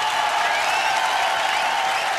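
Audience applause at a comedy show, loud, dense clapping from a crowd, steady throughout with no speech over it.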